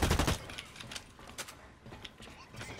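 Gunfire in the shooter game Blacklight Retribution: a loud burst at the start, then scattered quieter shots and mechanical clicks through a busy game mix.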